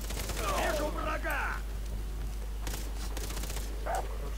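In the co-op multiplayer video game Far Cry 3, a dog barks in several sharp yelps near the start and again near the end, mixed with bursts of in-game gunfire.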